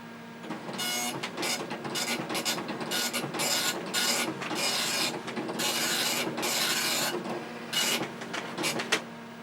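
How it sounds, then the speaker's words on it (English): A computer printer attached to a Tandy Color Computer runs off a page in quick bursts of rasping, buzzing print-head strokes separated by short pauses, close and fairly quiet, with no talking. "It wasn't done printing."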